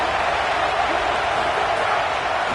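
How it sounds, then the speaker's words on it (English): A football stadium crowd at a college game against Kentucky roars in a steady, dense wash of noise, loud and continuous throughout without pauses. "This crowd bringing the energy and noise early."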